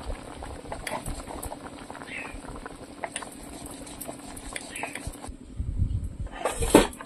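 Fish curry with ol (elephant foot yam) bubbling in a pot on a home stove, a steady low simmering gurgle with soft bubbling pops, heard close, with kitchen clatter near the end.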